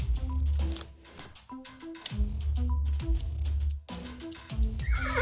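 A horse in a point-and-click adventure game whinnies loudly several times in close succession, near and clear, with low game music underneath.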